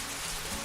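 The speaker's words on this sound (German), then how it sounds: "Fast durchgängig im Regen." Steady rain falls on the Pyrenees along the HRP high route between Lescun and Gavarnie, a dense, even hiss of drops close by with no voices.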